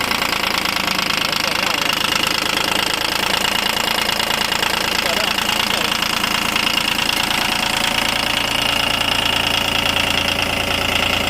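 A Japanese-import 30-horsepower motorbike that has never been used in Thailand idles smoothly with a steady, even mechanical hum throughout, while voices talk over it.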